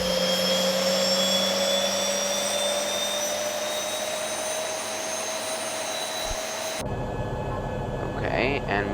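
Boeing 737 MAX engine starting in the X-Plane 11 flight simulator, a steady whine whose pitch climbs slowly as the turbine spools up, then a cut to a quieter rumble with a voice speaking.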